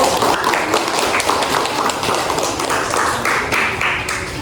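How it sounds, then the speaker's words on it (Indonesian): Applause from students in a classroom for the first group as it comes forward to present, a dense, steady patter of many hands close by filling the whole moment with no talk over it. "Tepuk tangan untuk kelompok 1"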